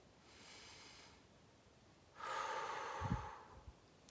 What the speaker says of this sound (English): You can see through my nose and my mouth that I am breathing